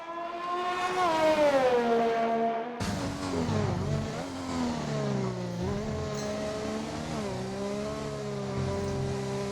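A Formula race car in a Chinese Grand Prix racing video game, its engine whining loud and close with rising and falling pitch as it revs through gear changes, holding a continuous high drone alone.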